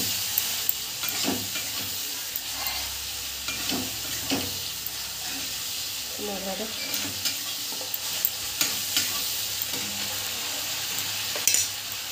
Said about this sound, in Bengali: এদিকে আমার পেঁয়াজটা ভাজা ভাজা হয়ে গেছে। এটা আমি দিয়ে দেবো রসুন বাটা,